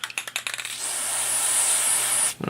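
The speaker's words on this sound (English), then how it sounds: "Spray it down some more." Aerosol oil sprayed onto an AR-15 bolt carrier during cleaning: a steady, close hiss lasting well over a second, framed by small clicks and handling noises of metal parts before and after.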